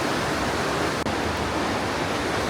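River flowing past a vacation rental near Sequoia National Park, a dense continuous rushing wash of water, loud and close, steady with one tiny dropout.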